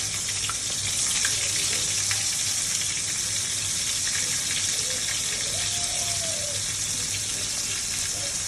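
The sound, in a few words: fish frying in mustard oil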